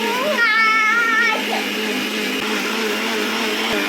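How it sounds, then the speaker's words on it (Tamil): Kitchen mixer grinder blending mango juice, a loud steady whirring motor drone that whines higher at the start, then settles into a constant churn, with no talk. "அரைக்கணும், மிக்ஸி எப்படி அரைக்கணும்னு சொல்லி அழகாக சொல்லுவோம்."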